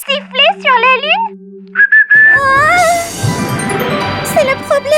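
A cartoon character whistles a rising, wavering tune, clear and close, then a bright chime and scattered tinkling follow while a voice speaks briefly at the start.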